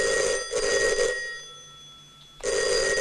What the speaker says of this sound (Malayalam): ആ ഫോൺ അറ്റൻഡ് ചെയ്യടോ.